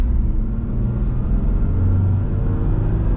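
A 1997 Toyota 4Runner 4x4 with a five-speed manual pulling away in first gear on a highway: a steady low engine rumble and road drone, with no clear gear changes, under faint cabin noise.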